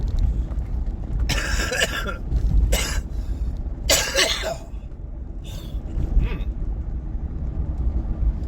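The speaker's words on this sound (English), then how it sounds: "As I cough up a damn lung" Several rough, harsh coughs come in bursts with short pauses between, close up over a steady low rumble.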